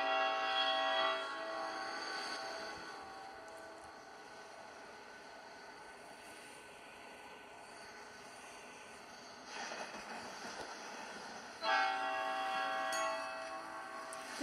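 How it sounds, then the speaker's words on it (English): A locomotive horn and bell in the Roblox game Rails Unlimited on a main line railway, sounding as a steady synthetic tone over a continuous rail rumble, with louder bursts near the start and again near the end, no talk. "Let's see the horn. The horn is pretty cool. Let's just listen to the bell."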